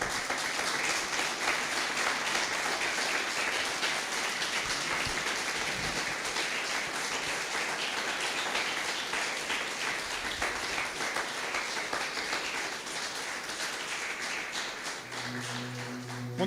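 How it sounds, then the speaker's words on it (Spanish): Church congregation applauding together, a steady dense clapping that fills the space for the full stretch, loud and continuous with slight easing toward the end. "¿Por qué no le damos un aplauso al Señor?"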